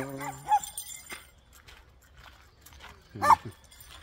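A dog gives two short barks some way off, with quiet outdoor background noise between them.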